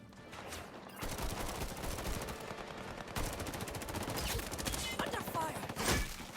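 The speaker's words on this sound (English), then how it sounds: "Under fire" Rapid automatic gunfire from the video game Highguard rattles in long sustained bursts, loud and close, with short pauses and a few heavier single shots.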